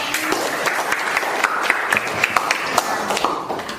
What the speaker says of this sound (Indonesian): Kasih applause dulu untuk.